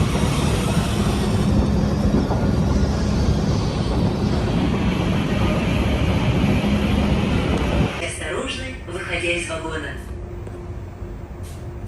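A Moscow metro train runs through a station with a loud, steady roar and rumble that drops off near the end, leaving quieter station clatter and echoes.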